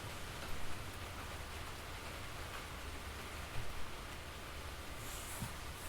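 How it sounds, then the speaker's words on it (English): Heavy rain pours down in a steady, dense hiss with a few louder patters, continuous and moderately loud, no voices. "Boy, is it pouring."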